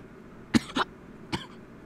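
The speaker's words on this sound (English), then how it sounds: "There were times when I heard Okita hacking his lungs up as he coughed" A character in the video game Hakuoki, Okita, coughs harshly in a quick pair of hacks followed by a single cough a moment later, close and clear against a quiet background with no talk.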